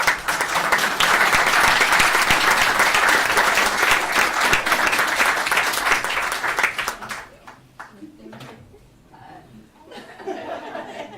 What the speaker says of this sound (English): So a big round of applause to these ladies because they put their heart and soul